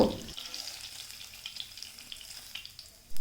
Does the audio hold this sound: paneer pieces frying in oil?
yes